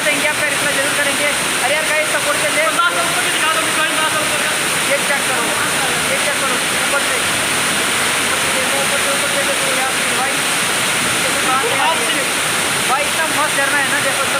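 A waterfall at a newly found spot in Dehradun roars in a steady, dense, close rush of falling water, continuous throughout, with faint voices mixed into the wash.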